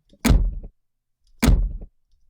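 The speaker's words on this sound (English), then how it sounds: "So here I have a low frequency sound that I'll play for you" Two heavy, deep thuds of household plastic and metal struck together as a low-frequency gunshot sound-design layer, each a short booming impact with a brief rattle, separated by about a second of silence.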